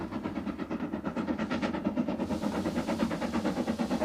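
A steam engine train runs in a loud, close, steady rhythmic chuffing and clatter that holds throughout, with no voices.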